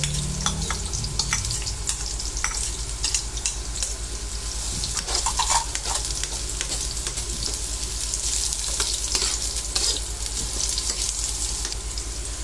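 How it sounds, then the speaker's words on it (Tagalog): Onion and garlic sautéing in hot oil in a pan, a constant close sizzle and hiss with intermittent stirring scrapes and clicks from a utensil, steady and uninterrupted. "Unahin po natin ang sibuyas. Isunod po natin ang bawang. Igisa po natin ng maigi."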